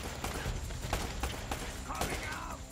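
Gunfire in the video game Uncharted: Drake's Fortune, with sharp shots and bursts scattered over a busy game mix, some close and loud, under a speaking voice.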